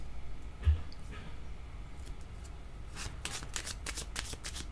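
A tarot deck is shuffled by hand during a card reading, giving soft papery riffles that build into a dense, close run of card slaps in the second half, with no talking.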